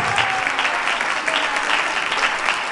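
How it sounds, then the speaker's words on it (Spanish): Sustained applause from an audience at a Spanish-language conference on gender agenda, dense and steady throughout with a faint voice briefly audible underneath. "Un fuerte aplauso para María Noel Baeza"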